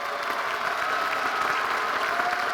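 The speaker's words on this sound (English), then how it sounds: "give a big round of applause for those supporters here today" A large crowd at a Queensborough Community College commencement ceremony claps for supporters in the room, a sustained, even wash of applause from many hands with no voices.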